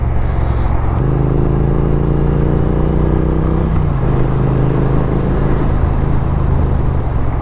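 A Triumph Street Twin motorcycle engine drones steadily while riding, a loud continuous low rumble with a slight shift in pitch partway through, heard alone with road and wind noise.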